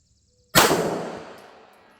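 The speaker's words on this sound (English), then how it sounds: "Said I wasn't going to fire it, but let's do it." A single Glock 17 handgun shot, one sharp, loud crack after a short quiet pause, followed by a ringing decay that fades over about a second and a half.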